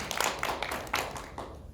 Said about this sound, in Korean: 남건이에게 격려 박수 하겠습니다.